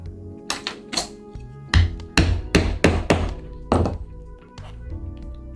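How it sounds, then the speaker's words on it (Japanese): A hammer strikes a leather punch to make stitching holes in leather for a slim glasses case, giving a series of sharp, close wooden thunks at an uneven pace, some quick pairs, with no talking. "それでは穴を開けていきます"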